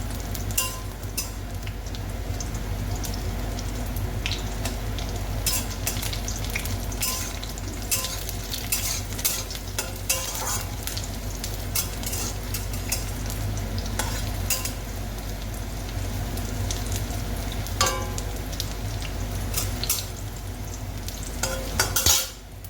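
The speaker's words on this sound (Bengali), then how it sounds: "লাল লাল করে ভেজে তুলে নিই।" Eggplant frying in hot oil while being stirred, a steady dense sizzle with scraping stirs and occasional clinks throughout, close and fairly loud with no talking.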